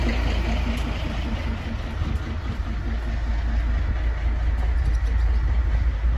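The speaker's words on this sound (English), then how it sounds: "So here's our train today." Train with a reserved birthday caboose on a rare-mileage excursion, heard as a loud, steady low rumble of railcars and engine idling nearby, constant throughout.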